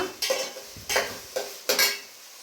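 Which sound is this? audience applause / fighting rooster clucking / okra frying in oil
okra frying in oil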